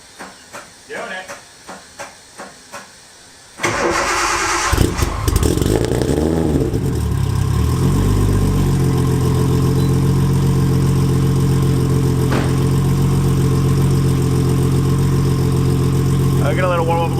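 A car engine cranks briefly after a few clicks, catches and starts, then settles into a steady, even idle as it warms up close by.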